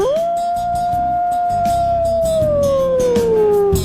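A single long, loud howl holds steady, then slowly slides downward in pitch over several seconds.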